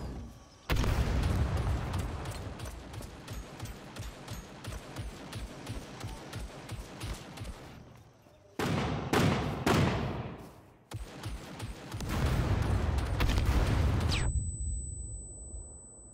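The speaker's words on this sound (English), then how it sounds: "There goes the HE grenades and tear gas." HE grenades and tear gas go off in the video game Scum amid rapid booming gunfire bursts, loud and sustained, with short pauses and then a sudden cutoff that leaves a thin tone.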